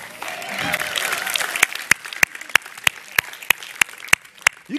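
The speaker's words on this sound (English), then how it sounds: "Give y'all yourselves a round of applause." Audience applause at a live country music gathering in Nashville, a crowd clapping steadily with sharp, regular claps close by standing out over the broader wash of hands.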